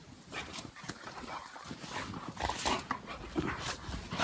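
Dogs out in deep snow, with close panting, snuffling and soft whimpers in irregular bursts over faint background noise.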